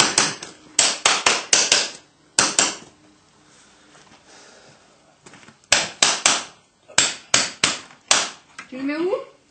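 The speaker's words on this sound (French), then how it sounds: "N'oublie pas d'enfoncer un peu au marteau." A hammer strikes repeatedly during apple pressing, with sharp, loud blows in quick bursts separated by quiet pauses. A voice briefly speaks at the very end.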